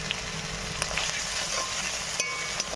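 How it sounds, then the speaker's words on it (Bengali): Ginger and garlic paste frying in a pan for pabda fish jhal, giving a close, steady sizzle with light stirring throughout. "এর মধ্যে দিয়ে দিলাম আদা আর রসুনের পেস্ট। এটাও ভালো করে কষিয়ে নিতে হবে।"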